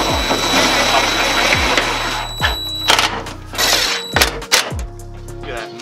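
Ratchet tightening bolts on a Tundra grill fitted to a 2020 Sequoia TRD, loud close clicking bursts with short pauses and heavier clunks toward the end.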